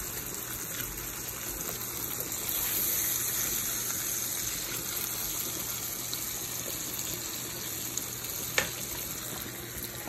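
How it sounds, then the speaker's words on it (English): Veal and pork sauteing with onions in a pressure cooker, giving a steady, moderately loud sizzle and hiss throughout with a faint low hum underneath and one brief sharp clink near the end; no talking. "You saute with onions."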